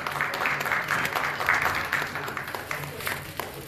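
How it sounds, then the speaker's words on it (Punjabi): An audience at a cultural event applauds for Dr. Sughra Sadaf with a dense, continuous burst of clapping that holds strong for several seconds before tapering slightly, with a low hum of voices beneath. "ਡਾਕਟਰ ਸੁਗਰਾ ਸਦਫ ਵਾਸਤੇ ਬਹੁਤ ਸਾਰੀ ਤਾਲੀਆਂ ਜੀ"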